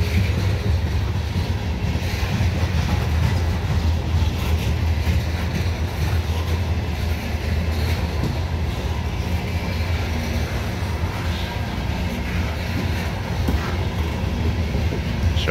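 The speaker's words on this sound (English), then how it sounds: "Big old 200 carload of coal." A CSX coal train of about 200 cars climbs Parrs Ridge on the old B&O mainline near Baltimore. It gives a continuous deep rumble of locomotives and rolling wagons, loud and steady throughout, with no voices.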